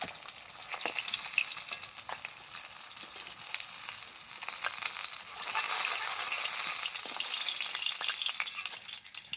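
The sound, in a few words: fish frying in oil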